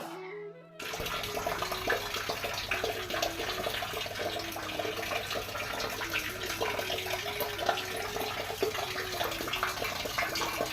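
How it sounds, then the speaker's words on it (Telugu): Water pours steadily from a pipe after a night of rain in a continuous, close splashing rush that runs unbroken throughout. "ఇంకా నీళ్లు పడుతూ ఉన్నాయి"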